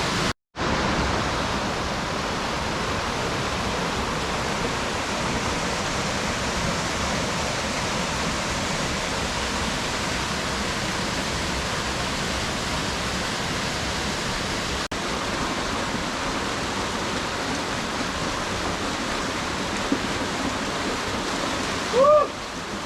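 Small waterfall cascade in the Cruces Basin Wilderness canyon, a steady close broadband rush of falling water that continues unbroken for over twenty seconds with no talk.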